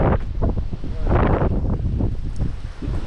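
Strong wind buffets the microphone in continuous roaring gusts, with muffled voices faintly underneath.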